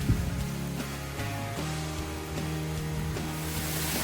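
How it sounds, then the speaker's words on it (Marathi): A strong stream of rainwater rushes across a forest trail on the monsoon climb to Siddhagad fort near Murbad. It makes a steady, loud, close wash of noise with a sustained tonal drone layered over it. "इथे पाण्याचा प्रवाह जोरात सुरू आहे"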